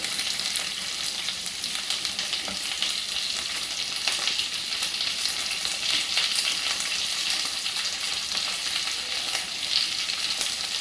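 Green and red capsicum and onions sauté in a pan for chilli chicken, producing a constant, close, loud sizzle with occasional stirring scrapes throughout.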